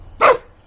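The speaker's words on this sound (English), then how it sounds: "She's got that mean bark." A single short, sharp bark from a dog, close and loud, standing alone against quiet room noise.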